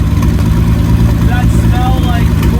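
A turbocharged car engine, the Aces Killshot Classic, runs with a loud, steady, close drone, with faint whistling tones rising above it.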